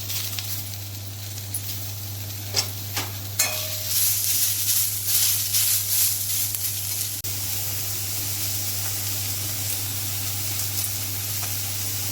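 Tomatoes frying in a pan with ginger and garlic for a Maharashtrian harbhara curry give a steady, close sizzle and hiss, swelling for a few seconds as they are stirred, over a constant low hum.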